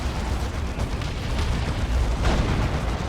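A Fire Prism tank exploding in Dawn of War 2 amid a dense, rumbling battle din, with a continuous roar of blasts and a sharper burst standing out partway through.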